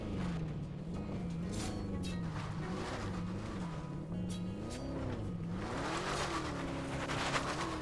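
Cars racing around the Down on the Farm track in LEGO 2K Drive, a steady loud engine drone whose pitch rises and falls with gear shifts and turns, with occasional tire squeals, no talking.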